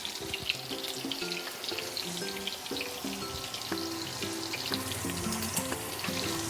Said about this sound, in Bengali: আলুগুলোকেও আমি লাল করে ভেজে নেব।